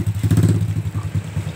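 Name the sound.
motorcycle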